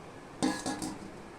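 Soaked soybeans tipped into a mixer grinder bowl, a few quick close clinks and knocks of metal.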